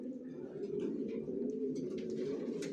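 Racer pigeon babies in a loft coo in a soft, continuous low murmur, close and fairly quiet, with small chirps and rustles on top.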